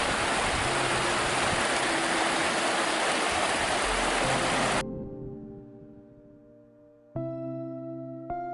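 The McAllister River in the Victorian High Country flows with a loud, steady, close-up rush for about five seconds, then cuts off abruptly and gives way to sustained tonal sounds.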